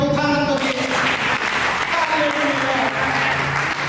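A church congregation applauds during a sermon, a dense, loud wash of clapping with a voice and tonal sounds carrying over it throughout.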